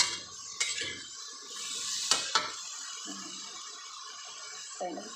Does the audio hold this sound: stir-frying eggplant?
yes